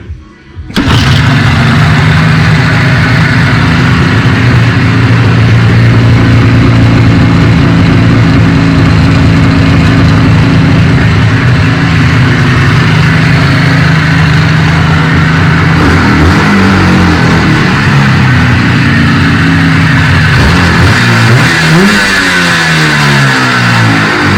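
An old Jupiter 4 motorcycle engine fitted with a PVK-34 carburetor starts and runs loud and close, holding a steady throbbing idle before the revs shift and waver toward the end.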